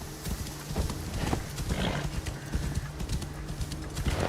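A horse trots in a video game, its hooves beating a steady, continuous clip-clop over a dense, noisy background for the whole stretch, with no talking.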